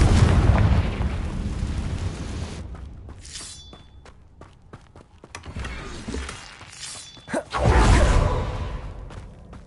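Confringo spell blasts in the video game Hogwarts Legacy sound as repeated fiery explosions and whooshes, with a heavy booming burst at the start, a run of sharp cracks and impacts in the middle, and another loud blast near the end.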